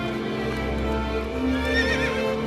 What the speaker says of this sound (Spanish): Son sonidos de hombres a caballo, dentro del palacio, acercándose.